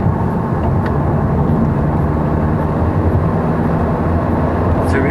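A car at full throttle at around 100 to 110 km/h on the highway, a loud, steady engine drone and road roar heard from inside the cabin, continuous with no distinct breaks.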